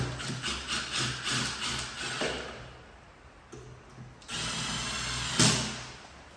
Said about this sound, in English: Then you can take your screws, put them back in, hand tight, and follow through with the drill.